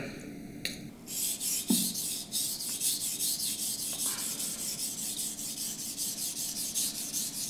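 Knife being sharpened on a King Deluxe 1000 grit whetstone: steady, close rhythmic rasping strokes repeating back and forth, with a few light clicks at the start and no talk.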